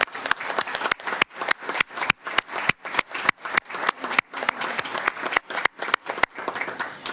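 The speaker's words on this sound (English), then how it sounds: "Let's give them an applause." Applause from a council meeting audience honoring a girls' team, a steady burst of many hands clapping at close range for several seconds, with no voices standing out.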